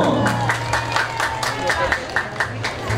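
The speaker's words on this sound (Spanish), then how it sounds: "¡Fuerte el aplauso!" Crowd at an August town festival in Chitagá claps loudly and steadily, with scattered cheers and murmuring voices mixed through the applause.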